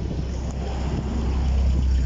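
An Opel car engine with a failing fuel pump idles in a low, steady rumble, heard close with some wind noise and no speech.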